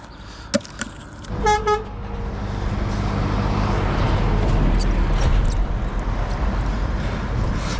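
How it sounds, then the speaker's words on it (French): Car horns honk near a bridge: a few short toots come first, then a longer honk, and then steady passing traffic noise rolls on. No one speaks over it. "Beaucoup de personnes nous klaxonnent comme ça."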